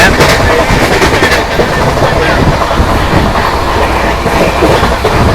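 The Mysuru–Chennai InterCity Express runs along the rails with a loud, close, continuous rumble and rhythmic clickety-clack of wheels over track joints, heard without letup throughout.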